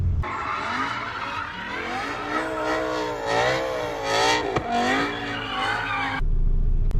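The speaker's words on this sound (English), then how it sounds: "This car is outrageous. It will slide, whip around so violently." A sports car revs hard and accelerates, engine pitch climbing and falling in sweeps as it slides and whips around, loud and close from start to finish, ending in a steady rumble.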